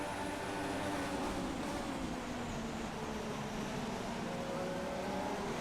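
Racing car engines in the F1 2016 game at the Baku circuit give a steady, dense roar that holds at constant loudness throughout, with no speech over it.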